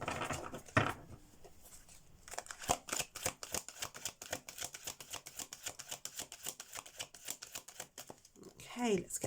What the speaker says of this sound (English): So we'll give the cards a good shuffle first.